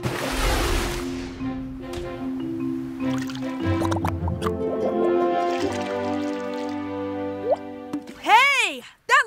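Water drips through a sand and charcoal filter in a cartoon, with single plops and a few trickling drops over a sustained musical score, then a rising and falling whistle-like sweep near the end.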